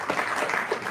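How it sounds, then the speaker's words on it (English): Applause from the audience at a reputation summit in Nigeria, a brief, dense burst of clapping heard at moderate distance with no voices on top. "Please, a round of applause for that."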